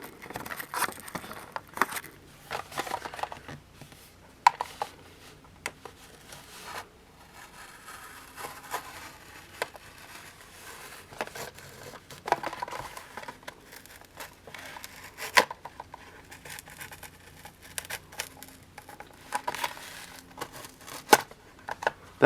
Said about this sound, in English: Brought back the original knife because, quite frankly, it just cut better.